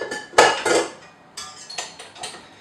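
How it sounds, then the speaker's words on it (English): A whisk clatters against a bowl while brownie mixture is beaten, giving bursts of metallic scraping and clinking in uneven strokes, close and fairly loud, with brief pauses between. "I'm actually going to use a whisk in this"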